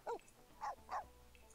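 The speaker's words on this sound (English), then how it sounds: "a relatively low bark." A Sims 4 dog gives three short, low barks, quiet and spaced apart, the last two close together.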